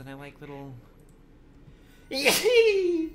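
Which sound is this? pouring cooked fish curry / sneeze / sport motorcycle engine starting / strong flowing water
sneeze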